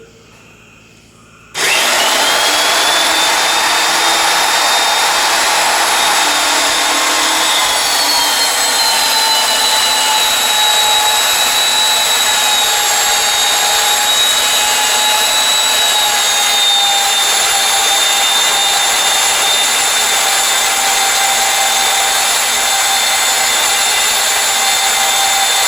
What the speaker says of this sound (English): Let me get a drill set up over here